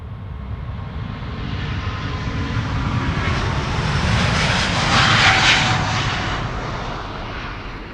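An ITA Airways Airbus A350 jet departing Amsterdam Schiphol on a sunny day, its engine roar swelling steadily to a loud peak before easing slightly, a continuous broadband rumble with no talk.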